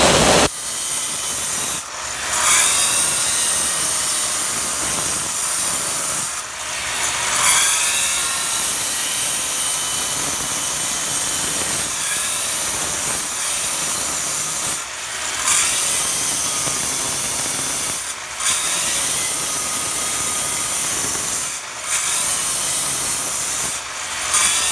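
A saw grinds steadily into a granite block being squared by hand in stone carving, a continuous broadband rasp with brief pauses every few seconds, close and loud with no talking.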